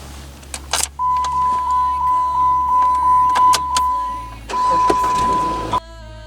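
Power windows on a Jeep Patriot 2.4 close from the front passenger seat switch: a steady electric motor whine runs in two long stretches with clicks between, close inside the cabin.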